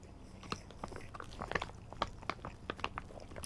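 Someone chewing imitation crab meat up close, a string of soft, moist bites and crunchy mastication clicks repeating irregularly with no talking.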